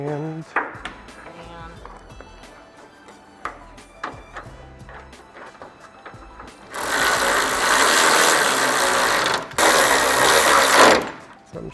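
Power tool driving hood bolts on a Toyota GR Corolla carbon fiber hood, scattered mechanical clicks and handling, then two long loud buzzing whirs of the driver running close.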